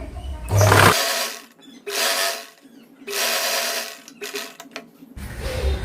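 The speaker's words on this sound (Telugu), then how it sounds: "దీన్ని ఇలా తిరిగేసి ఈ విధంగా కుట్టి వేసేసుకుందాం." A sewing machine stitches a dress top in three separate runs of steady, close whirring. Brief pauses fall between the runs.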